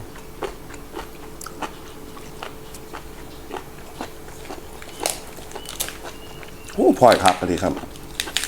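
Boiled golden apple snails, served with a three-flavour dipping sauce, are bitten and chewed up close, making scattered small crunches and clicks that cluster into a louder burst near the end, with someone speaking briefly.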